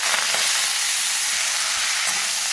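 Freshly washed, chopped fenugreek leaves hitting a hot pan, giving a steady loud hiss and sizzle throughout, close up with no voices.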